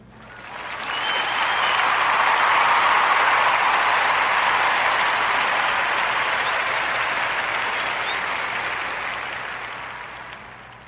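A warm round of applause for a young lemonade business owner, with steady, dense clapping from a crowd that swells in, holds for about ten seconds, then slowly tapers off.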